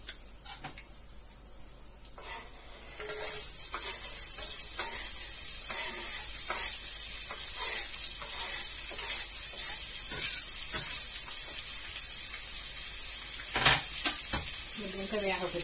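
Chopped onion hits a very hot pan while cooking meatballs and fried potatoes, setting off a sudden loud, steady sizzle that continues evenly with faint clicks of stirring throughout.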